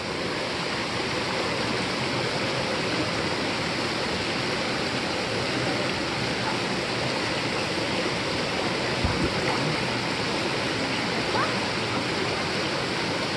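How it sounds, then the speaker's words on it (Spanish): A swollen river after a big flood rushes with a loud, steady broadband roar of churning water, close and continuous throughout with no speech over it. "Es que creció muy grande el río por eso."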